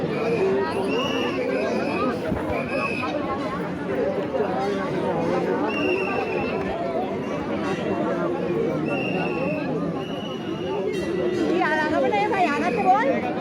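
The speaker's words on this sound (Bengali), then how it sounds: "এখনো ভিড় কাটবে না নাকি" Dense crowd chatter fills a packed Durga Puja gathering, a steady hubbub of many overlapping voices held at an even level throughout, with a few nearer voices rising briefly above the babble.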